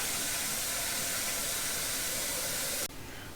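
Water runs steadily into a kettle with a constant broad hiss that cuts off abruptly near the end, leaving a quieter room tone.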